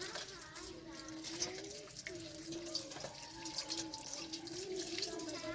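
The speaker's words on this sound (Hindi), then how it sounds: "ये सारी चीज़ें लहसुन सब्ज़ ये धो लेंगे" Garlic greens fresh from the fields are rinsed by hand in water, giving a running, splashing wash with soft drips, heard quietly and close, while voices talk in the background.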